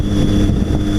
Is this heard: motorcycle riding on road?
yes